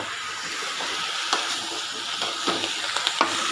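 Tomato and brinjal with chilli powder sautéing in oil, a soft steady hiss of frying with several light clicks from a stirring spoon in its second half, with no talking.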